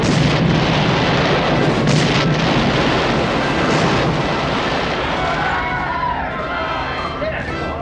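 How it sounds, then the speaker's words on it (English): Naval battle noise with Long Lance torpedo blasts, a loud, dense, continuous roar of explosions and rumbling booms filling the scene, with a voice speaking over it. "a desperation murderous shotgun blast of Long Lance torpedoes"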